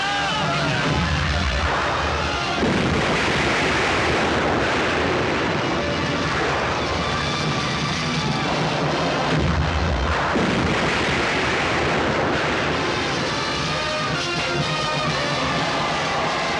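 Heavy cannon fire booms through a climactic Hindi film battle scene, with repeated deep blasts layered over a dense, loud wall of dramatic score and battle noise throughout.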